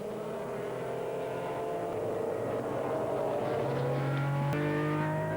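GT race cars roll off for the start of the FIA 2001 GT Championship race, their engines making a loud, continuous drone that swells steadily, with a rising tone near the end.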